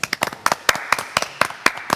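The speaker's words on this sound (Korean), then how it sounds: "일단 너무너무 박수!" Audience applause and clapping for the group MAMAMOO's chart win, sharp claps arriving in a quick, uneven rhythm, close and fairly loud, with no talk over them.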